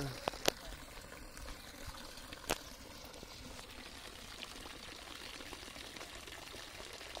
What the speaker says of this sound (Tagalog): Tubig na.